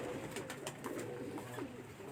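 Pigeons coo softly at a rooftop loft, low murmuring calls repeating through steady background noise with no talking.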